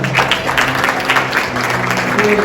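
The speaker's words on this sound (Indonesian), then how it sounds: "Itu tepuk tangan buat Tuhan." A church congregation applauds together during a pastors' installation service, a dense, steady wash of clapping filling the hall for the whole moment, with a faint musical hum underneath.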